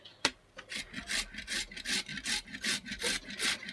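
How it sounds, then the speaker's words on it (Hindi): Dry carrots are rubbed against a kitchen grater in quick, even back-and-forth strokes, each rasping pass close and crisp, after a sharp knock at the start. "तो इनको अब घिस लेते हैं। तो हमने यहाँ कद्दूकस ले लिया है"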